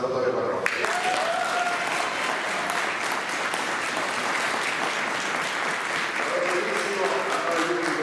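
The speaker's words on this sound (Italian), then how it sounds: "vorrei che un grandissimo applauso lo faceste a uno che lavora per Rotta di Collo" A crowd at a 2019 living nativity event in Panettieri bursts into loud, continuous applause, many hands clapping steadily throughout while a few voices call out above it.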